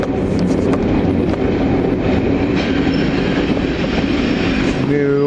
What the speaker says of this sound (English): Terrible on the brakes, this train is.